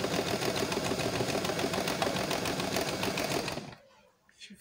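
A sewing machine stitches an open collar with a fast, steady rattling hum that runs continuously, then stops abruptly near the end.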